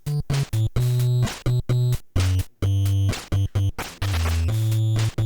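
NES sound chip drums in a chiptune pattern, harsh square and noise channel hits with buzzy pitched tones, choppy and loud, alternating short and sustained bursts in a rapid rhythm, no voices.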